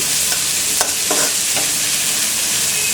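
Broken wheat dalia upma with green chillies frying on a medium flame, giving a steady hiss of sizzling oil broken by a few clear scrapes of a spoon stirring through the pan. There is no talking.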